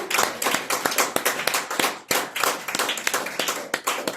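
A church congregation claps, sharp, distinct handclaps in a loose rhythm, close and fairly loud, repeating steadily throughout without voices.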